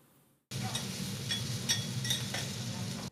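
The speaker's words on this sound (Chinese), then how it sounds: "煎台上萝卜糕煎到焦焦脆脆" Radish cake fries on a hot griddle at a busy breakfast shop, a steady close sizzle that starts abruptly and carries on alone with a few faint clinks of utensils.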